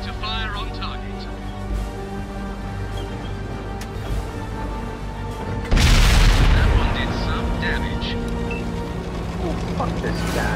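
A tank cannon in World of Tanks fires once about midway, a single loud, heavy boom that rolls into a lingering rumble over a steady low engine drone.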